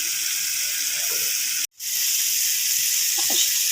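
Fish coated in turmeric sizzles steadily in hot oil for a chilli fish curry, a bright constant hiss with a brief gap, faint scraping of stirring underneath.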